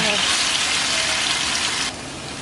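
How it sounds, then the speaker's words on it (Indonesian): Sambal ingredients are sautéed in a pan with a loud, dense hiss of frying that runs steadily close up and then drops slightly in level near the end. "baru kemudian nanti kita akan tumis bahan sambalnya"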